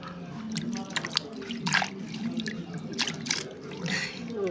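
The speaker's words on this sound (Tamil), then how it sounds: "இந்த தண்ணியெல்லாம் மறுபடியும் எடுத்து அதே செடிகளுக்குன்னா அவ்வளோ மண்" Water splashes and trickles as garden plants are washed and the runoff is collected, with irregular drips and pours at moderate loudness and no talking.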